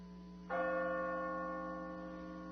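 A distant cathedral church bell strikes once, its bright ringing tone lingering and slowly fading over quiet surroundings.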